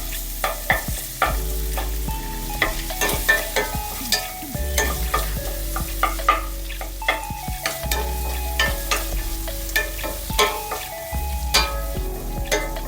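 Ginger garlic paste fries in a pan for a paneer matar masala, with a continuous sizzle broken by repeated rhythmic scrapes and knocks of a spatula stirring the paste.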